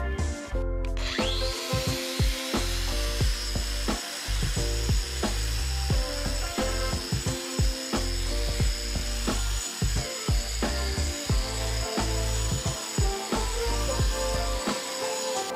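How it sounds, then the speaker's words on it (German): Angle grinder fitted with a cup grinding wheel working an old concrete slab, a loud continuous whine with rough, stuttering grinding texture and brief dips throughout, no talking. "Und wir werden jetzt erstmal mit dem Winkelschleifer und dem Schleiftopf anfangen."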